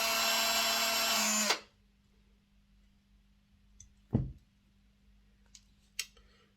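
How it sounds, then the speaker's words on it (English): A small drill boring a hole in the coupling of a Hornby 08 shunter model train runs in a loud high whine for about a second and a half and then stops, followed by a few faint clicks and taps over low hum. "So let's get the drill out. I'm going to mark where I'm going to drill in that coupling."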